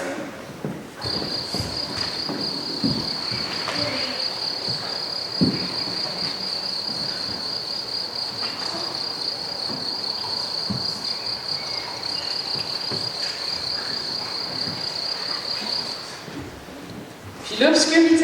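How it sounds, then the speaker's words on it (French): Swarm of locusts from the biblical plague of Egypt: a steady, high insect trill runs loud and unbroken for most of the clip, with faint scattered rustles and knocks underneath. "ce fut l'invasion de sauterelles qui dévorèrent toutes les récoltes."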